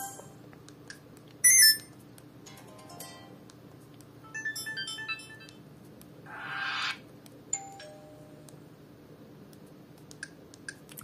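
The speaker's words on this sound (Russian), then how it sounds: "Вот сигналы сообщений." Several short message alert tones play one after another on a Sony Ericsson Z320i flip phone, bright electronic beeps and chimes separated by quiet pauses, close and fairly faint over a low room hum.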